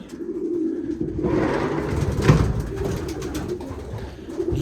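Young pigeons cooing and shuffling inside a loft, a steady murmur of soft coos close by with a brief louder flutter partway through.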